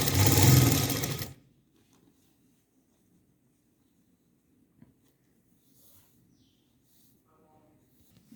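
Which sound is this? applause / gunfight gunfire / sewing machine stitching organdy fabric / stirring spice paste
sewing machine stitching organdy fabric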